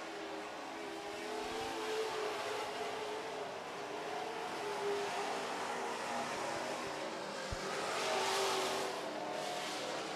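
Super trucks race around a dirt racetrack during a heat, their engines a steady broad roar heard from a distance that swells slightly toward the end; no one speaks.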